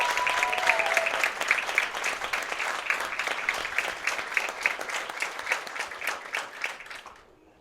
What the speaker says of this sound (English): How about another round of applause for all of our bowlers?